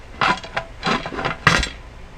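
A metal lid is set onto a pressure canner pot while canning butter, giving three clanking knocks of metal on metal, close and fairly loud with short pauses between them, and no voices.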